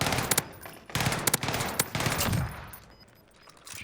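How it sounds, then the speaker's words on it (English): Gunfire in the Rebirth Island video game: several quick bursts of automatic fire, sharp close cracks in clusters during the first two seconds, then a quieter lull with a last faint shot near the end. "I can just shoot into those windows"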